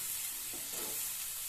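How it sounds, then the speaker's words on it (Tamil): Chopped onion and green chili sizzle steadily in a hot pan for a spicy paneer capsicum stir fry, a close, even frying hiss with a brief soft stir in the middle. "வெங்காயம் ஒரு 2 நிமிஷம் வதங்கணும்."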